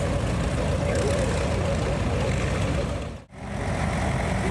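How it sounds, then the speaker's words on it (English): An antique Massey Harris tractor with a Continental engine runs steadily at a tractor show and pull, giving a loud continuous engine roar with one brief dip partway through, while a voice speaks faintly underneath. "Continental engine, strictly built by Continental for Massey Harris."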